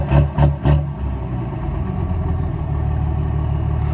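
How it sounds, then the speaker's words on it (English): A Cummins diesel engine running on a launch control rev limiter: three rapid low bursts as it bounces off the limiter near the start, then a steady loud idle-like drone that holds close and alone. "That's the start of my rev limiter anyways."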